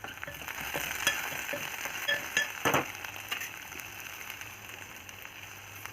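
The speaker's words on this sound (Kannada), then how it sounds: "ಸ್ವಲ್ಪ ಖಾರ, ಉಪ್ಪು ಹಾಕ್ಕೊಂಡು ಒಂದು 2 ನಿಮಿಷ ಫ್ರೈ ಮಾಡ್ಕೋಬೇಕು" Okra sizzles and fries steadily in a pan with turmeric and spices, a continuous crackling hiss with a few louder stirring bursts near the middle, no talking.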